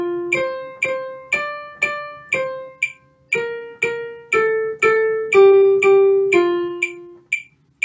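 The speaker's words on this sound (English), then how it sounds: "it happens with the click on every beat" A metronome clicks on every beat at 120 bpm beneath a plucked or keyboard melody of Twinkle Twinkle Little Star. Sharp, regular ticks stay steady under clear, decaying notes with no voice.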